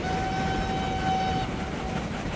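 Train arriving at a station in the game Transport Fever 2, with a steady mid-level rumble of rolling wagons and a sustained horn tone through most of the clip, with no talk.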